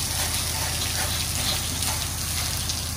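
A pressure washer set to very low pressure, around 60 to 80 PSI, rinses the siding of a house, giving a steady, broad hiss of spraying water that continues evenly throughout without talk.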